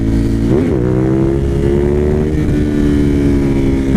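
A high-mileage Suzuki TL1000R motorcycle with about 150,000 miles lifts into a wheelie, its V-twin engine droning loud and steady with a rising pitch sweep as the throttle opens, close by.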